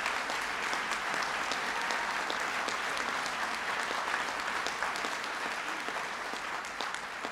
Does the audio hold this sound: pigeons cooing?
no